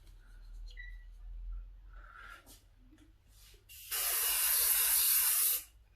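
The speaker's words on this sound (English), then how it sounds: "So let's make a decision and spray it." A spray can releases a steady, loud, airy hiss that lasts close to two seconds and then stops abruptly, following a few faint clicks and rustles.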